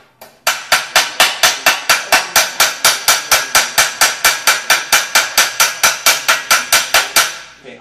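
Sheet metal hammered into a triangular roll: about thirty-five sharp metallic blows in a fast, steady rhythm, loud and close with no talking.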